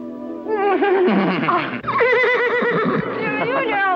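A horse whinnies loudly and close, with a long wavering neigh followed by a second one shortly after.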